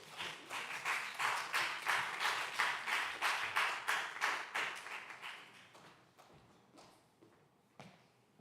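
A church youth congregation in Seoul claps together in a steady burst of applause, rhythmic and fairly close, lasting about five seconds before thinning into a few scattered claps and quiet shuffling.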